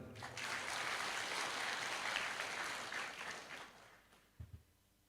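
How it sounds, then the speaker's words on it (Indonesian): Audience clapping at a PKB party cadre gathering in Karawang, a full burst of applause that fades out toward the end, followed by a couple of brief thumps as the speaker returns. "Boleh tepuk tangan."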